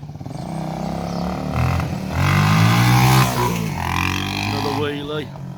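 A 1978 Honda XL250 motorcycle, a barn find, revs hard during a wheelie, its engine note climbing and falling close by while voices shout over it.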